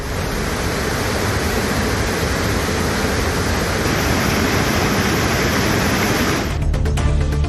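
Hogenakkal falls on the Kaveri river in heavy flow, a loud, dense, unbroken roar of rushing water that holds steady throughout, with a faint change in texture near the end.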